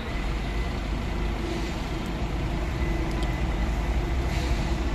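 Bus number 23008 on the Belo Horizonte to Presidente Prudente route pulls out of the boarding area at a Graal roadside stop in Ribeirão Preto, a steady close diesel rumble with faint squeaks, no voices.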